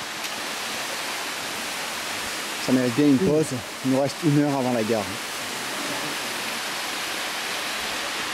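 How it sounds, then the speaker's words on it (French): The Cascade des Anglais waterfall on Corsica's GR20 trail makes a steady, loud, rushing roar throughout, with someone speaking briefly over it midway. "Alors là on est à la cascade des Anglais."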